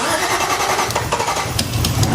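A BMW E30 M3 engine cranks and starts for the first time in a project build, settling into a rough, steady idle that stays loud and close throughout, with no talking.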